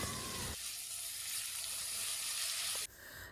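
Sliced onions with salt sauté in hot oil for a Thalasseri chicken dum biryani, giving a steady, close sizzle. A brief clatter marks the start, and the hiss sharpens near the end as the food is stirred.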